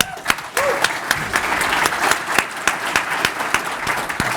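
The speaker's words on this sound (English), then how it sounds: "We should give them a round of applause." Applause from a tech conference audience for a speech-AI panel fills the room, many hands clapping steadily with a few sharp, close claps standing out.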